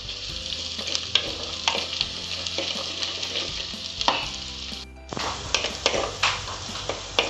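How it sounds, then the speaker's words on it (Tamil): Chopped onions sautéing with salt in a pan for a Malabar sardine curry, a steady loud sizzle with spoon taps and scrapes, briefly cutting out before the frying resumes. "வெங்காயம் வதங்குறதுக்காக கொஞ்சம் உப்பு சேர்க்குறேன்"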